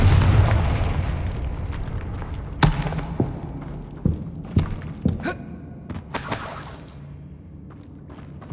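A Confringo spell explodes in the video game Hogwarts Legacy, a loud booming blast that rumbles away, followed by scattered thuds, cracks and a bright shattering burst of debris.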